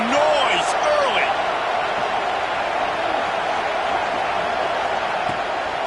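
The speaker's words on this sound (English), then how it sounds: "This crowd bringing the energy and noise early." A home crowd at a college football stadium for Michigan at UCLA roars in a steady, dense wash of cheering and noise that holds loud and unbroken throughout, with a few whistles and shouts rising out of it.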